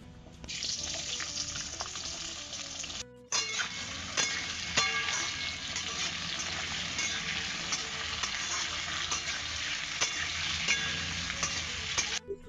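Potatoes hitting hot oil already seasoned with cumin seeds and asafoetida, a loud continuous close sizzle with stirring scrapes and a brief break near the start, no voices.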